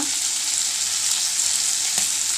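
Steady, loud sizzle of shrimp frying in hot oil in a pan with chopped onion, chilli and garlic, a continuous bright hiss with a brief stir near the end.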